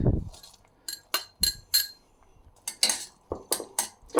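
Peas clink and tap sharply into a metal pot in several quick bursts, with quiet pauses between.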